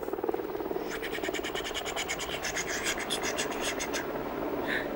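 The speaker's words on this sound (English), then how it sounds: "It was a helicopter" A steady rhythmic chopping whir of a helicopter, fairly close and continuous, with a broad rasping edge and no voices.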